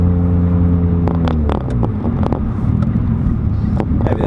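Mitsubishi Evo X engine heard from inside the car while driving, a loud steady drone with rumbling road and wind noise and scattered short fluttering bursts that fit turbo surge, no talking.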